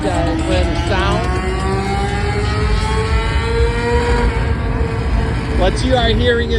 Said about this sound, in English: What you are hearing is the dyno over there.